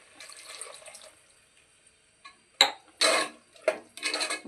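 Half a glass of water pours and splashes into a metal pot of black-eyed pea curry in a few short bursts, with faint kitchen clatter before it.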